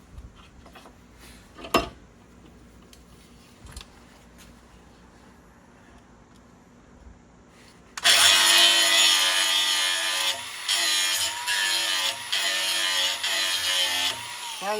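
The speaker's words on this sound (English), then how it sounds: "We'll give it a little buff on it." Buffing a freshly sharpened blade on a powered wheel: after quiet shop noise and a few clicks, a loud, steady grinding rub starts and continues, with slight dips as the blade is worked across it.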